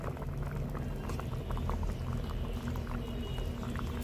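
A pot of potatoes and tangra fish simmering in a thin curry broth with cauliflower on the way, giving off a close, steady bubbling and gurgling with no talk over it.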